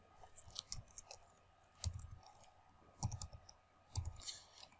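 Keys clicking on a computer keyboard as search keywords are typed, short clustered bursts of taps with brief pauses between them, close and fairly quiet, no voices.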